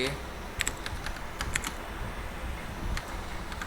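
Typing on a computer keyboard while writing web page code, with a steady patter of close, light key clicks and a few sharper taps spaced through the stretch, under faint room noise.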